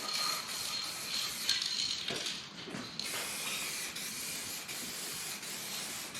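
A spray gun coats a Chevrolet C10 square-body truck bed in red paint, a continuous close hiss of atomized spray that dips briefly midway then resumes steadily, with no talk.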